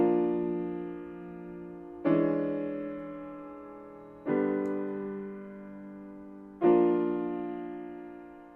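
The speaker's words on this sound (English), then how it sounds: "In this, you will hear Messiaen's theme of God," Solo piano sounds Messiaen's four-chord theme of God as three slow, rich sustained chords, each struck loudly and left to ring and fade over about two seconds, with no talking.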